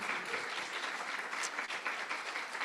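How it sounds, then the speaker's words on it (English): Sustained applause from an audience, a dense wash of clapping hands at steady volume throughout, no talking over it. "Give them a big round of applause."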